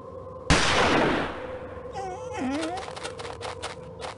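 A single sharp gunshot in a Murder on the Orient Express video game cracks and rings out, followed by a fading tail, then a whimpering wolf cry and faint background tones.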